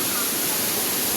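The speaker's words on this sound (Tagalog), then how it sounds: "pati yung lumalabas na tubig galing sa bundok" Steady rush of water flowing out from a mountainside in Bohol, Philippines, a dense, loud, continuous broadband roar filling the whole moment with no pauses.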